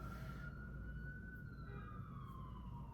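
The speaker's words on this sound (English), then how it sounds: "of course, there's a siren." Faint siren wailing in the distance, a single sweeping tone gliding slowly downward over a low background rumble.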